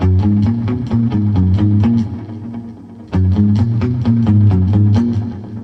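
An electric guitar picks single notes one after another in a steady, even ascending and descending run, clear and moderately loud with no talking.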